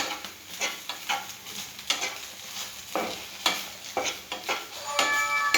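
Spicy masala frying in a pan, with a soft sizzle under repeated rhythmic scraping stirs of a spoon against the pan, close and moderately loud, no talking.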